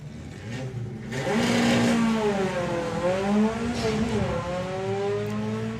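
A drag racing car at a national finals strip revs high and holds on the two-step, its engine wailing and wavering in pitch for several seconds while people talk over it.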